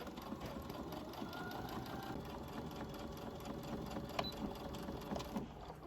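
A domestic sewing machine runs steadily while stitching a seam on a big-pocket baby clutch, giving a continuous close, even mechanical whirr with a rapid needle rhythm throughout.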